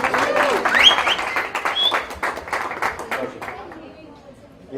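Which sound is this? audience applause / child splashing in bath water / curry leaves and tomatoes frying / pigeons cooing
audience applause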